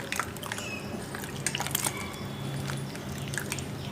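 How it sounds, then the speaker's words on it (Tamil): Mushrooms rinsed by hand in a bowl of warm water give soft close-up squishing and sloshing with scattered drips and light splashes, continuous and fairly quiet. "வெதுவெதுப்பான தண்ணியில் நம்ம இந்த மாதிரி க்ளீன் பண்ணோம்னா தான் மஷ்ரூம் நல்லா சுத்தமாகும்"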